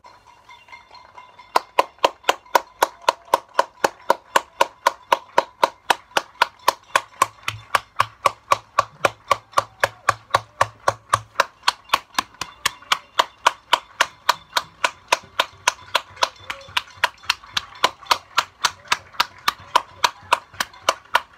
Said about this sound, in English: I can hear someone clapping in the distance.